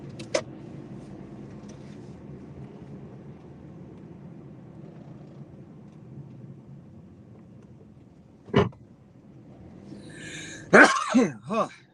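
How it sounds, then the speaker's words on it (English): A person sneezes indoors, one sharp burst in the middle and then a louder cluster of sneeze and throat sounds near the end, over a quiet background hum. "I've been sneezing on and off all day, activating the allergies"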